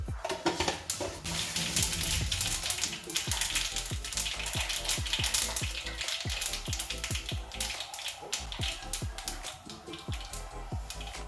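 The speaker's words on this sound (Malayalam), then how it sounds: "വെളിച്ചെണ്ണ ചൂടായിട്ടുണ്ട്. കടുകിടാം." Mustard seeds splutter in hot coconut oil in a pan, with a steady sizzle broken by many sharp, close pops and crackles that come quickly and unevenly.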